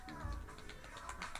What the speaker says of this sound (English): Where did the cat come from?